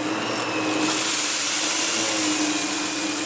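A Royal Lexon canister vacuum cleaner with a power brush sucks up sand, giving a loud, steady close-up hiss and whine with a gritty rush throughout and no talking.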